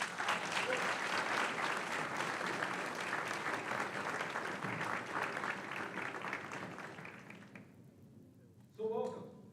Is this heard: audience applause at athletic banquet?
yes